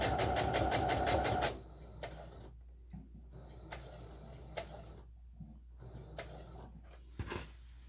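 A sewing machine runs fast and loud for just over a second, stitching around a gingham pillow cover made from old linens, then stops, leaving faint ticks and handling clicks.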